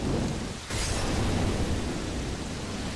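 A loud, dense roar of rain and thunder from a Left 4 Dead 2 game fills the air continuously, with a brief dip before a fresh crash swells back in.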